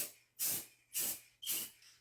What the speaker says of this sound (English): I'm taking some spray paint and I'm just